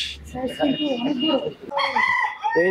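A rooster kept among many hens at a restaurant's mini zoo in Dhaka crows loudly and close by in two drawn-out, rising-and-falling calls, with some clucking and a voice mixed in.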